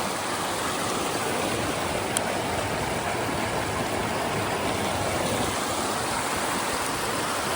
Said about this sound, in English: it's melting from snow higher up, and it's coming down these rocks. It's running fast